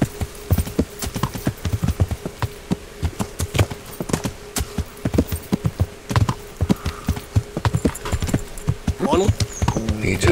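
Horse hooves clip-clop at a steady walking rhythm in Kingdom Come: Deliverance, a medieval video game, with repeated close thuds throughout and faint game voices briefly underneath.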